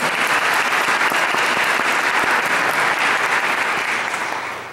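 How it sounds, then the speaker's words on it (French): A church congregation applauds during a Sunday homily, producing a dense, even wash of many hands clapping together. It holds steady at moderate volume and tapers slightly at the end, with no talking over it. "Alors merci beaucoup Nicole, on peut l'applaudir, hein, pour être courageux."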